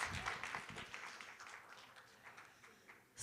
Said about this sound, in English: Can we get another round of applause for Jacqueline, please?